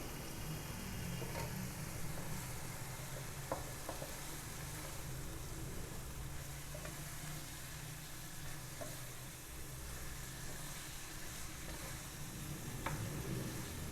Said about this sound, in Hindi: अब ये जो हमने सॉस बनाई थी ये इसके अंदर डाल देंगे और इसे मिक्स करना है